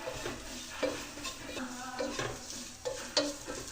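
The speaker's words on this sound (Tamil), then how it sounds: "அந்த மசாலாவோட பச்சை வாசனை போகிறது வரைக்கும் நல்லா" Masala with chilli powder and coriander powder being sautéed in a pan for squid roast, a soft steady sizzle with a spoon scraping and stirring at intervals, close and moderately loud.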